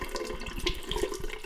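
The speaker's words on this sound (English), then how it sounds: "I'm going to peel the backing off while it's running under the tap" Tap water runs steadily close by while a sticker's backing is peeled off under the stream during an MX goggle fitting. The flow splashes and gurgles throughout, with no voices.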